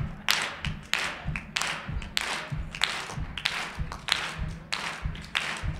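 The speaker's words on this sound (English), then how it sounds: "So I need you to clap your hands and stomp your feet, all right?" Church song showcase audience clapping hands and stomping feet together in a rhythmic pattern, loud repeated clap bursts paired with low thudding stomps in a steady beat throughout.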